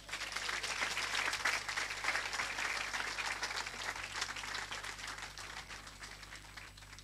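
A church congregation applauds at a healing service, sustained dense clapping from many hands that swells early and slowly tapers off, heard from within the hall over a low steady hum.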